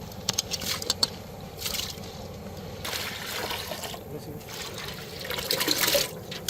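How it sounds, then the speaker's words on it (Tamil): Soaked masoor dal tipped into water in a cooking pot for a Sri Lankan dhal curry, giving a soft splashing, trickling wash with brief louder pours, fairly close, over a steady kitchen background. "நம்ம ஊற வச்ச மசூர் தால் ஸோ இப்போ இதை வந்து தண்ணியில் சேர்த்துக்கிறோம்"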